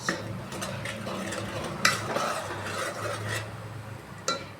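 Homemade ghee being stirred in a pot, a steady scraping and gentle bubbling sizzle with occasional louder metallic clinks of the spoon against the rim, close up and without speech.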